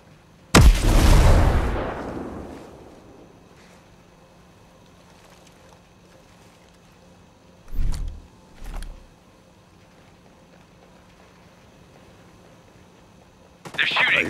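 A frag grenade blows up with a heavy, booming burst in the tactical shooter Ghost Recon Breakpoint, loud at the start and decaying over about two seconds, followed later by two short thumps and another burst near the end.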